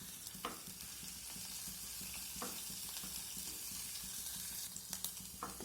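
Cumin, curry leaves, chili and chopped garlic fry in two spoons of refined oil, giving a faint, steady sizzle with occasional soft pops and clinks throughout.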